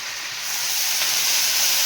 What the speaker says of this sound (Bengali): পেঁয়াজটা ভাজা হয়ে গেছে, এবার আদা রসুন বাটা দিয়ে দেবো